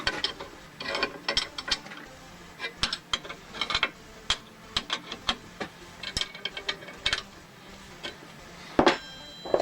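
A hand ratchet tightens bolts on a Cummins G56 six-speed transmission, clicking in short irregular bursts of sharp pawl ticks with quiet pauses between strokes, close and clear, without talk.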